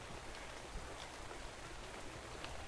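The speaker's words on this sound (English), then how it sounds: "It's raining." Steady rain falls in the ARK video game, a dense even hiss of drops with no voices over it.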